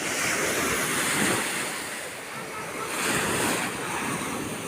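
Sea waves wash up onto a crowded beach in Tuscany, a steady close surf rush that swells and recedes in soft surges, with wind noise over the microphone and no voices.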